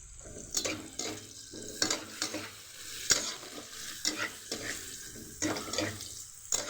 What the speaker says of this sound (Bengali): আর এইদিকে দেখুন গাজরটা কিন্তু ভাজা ভাজা হয়েই এসেছে।